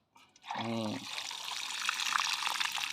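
Water poured onto the soil around eggplant plants, a brief gurgling splash followed by a steady soft trickling hiss as it soaks into the ground, close by with no talking.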